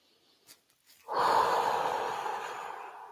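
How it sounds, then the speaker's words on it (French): A deep breath is drawn in sharply and then let out in a long, steady exhale, close and alone, during a guided relaxation with eyes closed. "d'avoir 3 profondes respirations de nettoyage"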